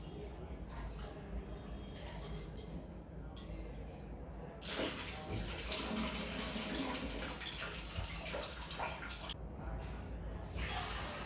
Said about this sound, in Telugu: ఎసరు మరిగేలోపు బియ్యం కడిగేసి పెట్టేసుకుందాం